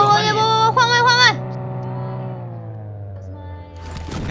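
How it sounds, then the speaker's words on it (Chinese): Motorcycle in the PUBG Mobile video game, its engine revving loudly at first, then settling into a steady idle drone before revving up again near the end. "我们驾个摩托车吧"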